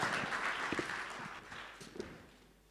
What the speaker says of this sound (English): Let's give a round of applause to Paxi